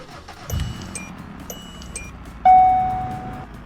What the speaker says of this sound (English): just to check out that alternative chime